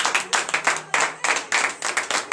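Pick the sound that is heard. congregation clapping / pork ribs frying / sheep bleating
congregation clapping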